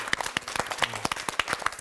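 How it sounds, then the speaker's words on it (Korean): A small group claps in a lecture hall during a Bible class on First Corinthians, a short burst of distinct, fairly close hand claps. "박수 한번 합시다"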